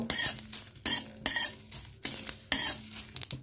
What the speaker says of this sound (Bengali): শুকনো লঙ্কা আর গোটা জিরে একসাথে ভেজে নেব।